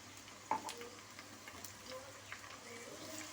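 Ginger garlic paste sizzles quietly with onions in a pan, a faint steady frying hiss with a single sharp tap at the start and a few soft stirring scrapes.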